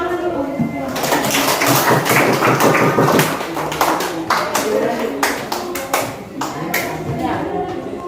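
A classroom group clapping hands together, loud and close, a dense burst of claps that thins into scattered individual claps before stopping.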